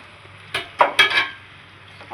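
A utensil scrapes and clinks against a pan while ginger, garlic and onion pieces are stirred for egg noodles, a few short close metallic strokes over quiet background.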